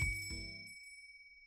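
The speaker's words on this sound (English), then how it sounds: "The telltale ring of a bell above the shop's door makes me pause." A shop-door bell in the video game All The Words She Wrote gives one bright ding with a tinkling shimmer, ringing out clearly on its own and fading over about half a second.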